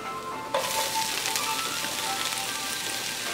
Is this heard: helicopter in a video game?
no